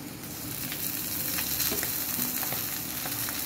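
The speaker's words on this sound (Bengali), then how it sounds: "এবার আমি এতে আগে থেকে রান্না করে রাখা সবজি দিয়ে দিচ্ছি" Pre-cooked vegetables go into a pan of frying noodles for a children's school-tiffin vegetable noodle dish, with a steady close sizzle and scraping stirs running throughout, no voices.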